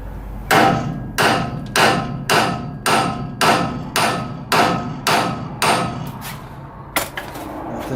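A hammer strikes a part on a Jeep Cherokee XJ during a 2WD to 4WD conversion, giving about nine sharp metallic whacks in a steady rhythm and then a final blow after a short pause, loud and close with no talking.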